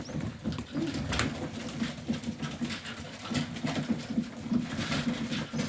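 Young Serbian Highflyer pigeons in a loft, soft overlapping cooing and fluttering murmurs forming a steady close chorus with faint pattering movement throughout.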